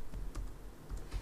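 Typing on a computer keyboard for a PageMaker lesson: steady, close, continuous key clatter with no talk over it.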